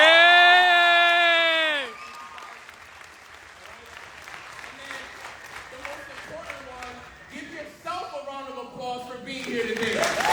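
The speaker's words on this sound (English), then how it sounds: "Can we also give a huge round of applause to our media guy doing all the work in the background and the camera guy" Audience at a large Stockholm event of over 700 people applauds for the media and camera crew, a steady roar of clapping with scattered cheers and whoops running beneath a loud voice and music.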